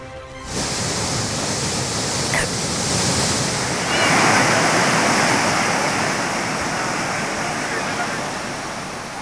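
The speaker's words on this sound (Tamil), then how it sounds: "தென்காசியில் பெய்து வரும் சாரல் மழை காரணமாக குற்றால அருவிகளில் வெள்ளப்பெருக்கு." Courtallam waterfalls in flood after drizzle rain, heard as a loud, continuous roaring rush of falling water that stays steady and close throughout.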